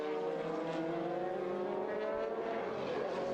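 GT race cars at Silverstone, an Aston Martin chasing a Ferrari, loud sustained engine roar with shifting revs as the cars run close together through the circuit, continuous and near.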